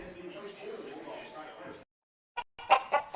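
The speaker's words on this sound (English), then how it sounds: "the chickens have arrived at Parker Family Feed in Bellwood" Chickens clucking and a rooster crowing in a radio ad for a farm feed store, loud and close with a speaking voice over them, then a brief silence and several sharp clucks.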